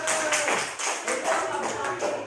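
Audience members clap for PSI at a school gathering, a modest patter of hands with uneven pulses, fairly faint and close, fading slightly before picking up again.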